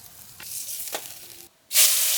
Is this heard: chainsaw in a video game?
no